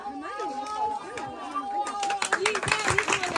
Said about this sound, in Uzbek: rahmat chiroyli qarsaklar